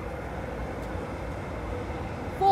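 Steady low rumble of a Tyne and Wear Metro train arriving at a station, a continuous drone with no voices, swelling slightly louder at the very end.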